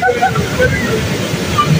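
Cold water sloshes and churns in an outdoor glamping spot in Kirinyaga, a steady close splashing wash, with voices chattering over it.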